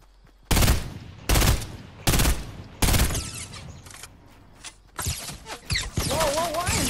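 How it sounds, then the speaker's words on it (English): Heavy Fortnite gunfire from an enemy squad: four loud, broadband bursts of shots at steady intervals, then scattered, fainter shots with other game noise and voices underneath. "why am I being shot by the other group as well?"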